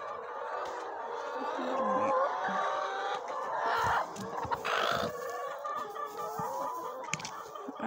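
Several chickens cluck and squawk nearby in a steady, overlapping chorus, with a few louder calls standing out.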